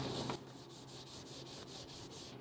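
Rhythmic rubbing or scrubbing strokes on the back of a metal wheel cover from a 1969 Triumph TR6, about eight even strokes close up and fairly quiet, with no talk.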